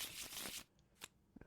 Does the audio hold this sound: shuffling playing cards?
yes